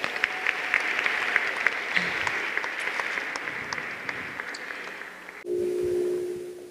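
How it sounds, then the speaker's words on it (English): Audience at a barristers' ball applauding themselves, a steady wash of clapping that slowly fades, then cut off abruptly by a sustained tonal hum near the end. "So please give yourselves a round of applause."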